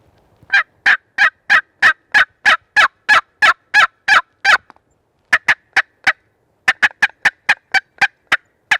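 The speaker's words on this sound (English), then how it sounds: "it can be a very loud call, a very sharp call, high frequency, really get birds to gobble at range" A turkey box call sounding loud and close: a fast run of sharp, raspy yelps, a brief pause, then more clipped yelps in quick succession.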